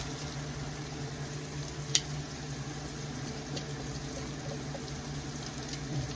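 Shallots and pearl onions cooking in a pan for coq au vin, a soft steady bubbling sizzle with one faint click, quiet and close, no talk.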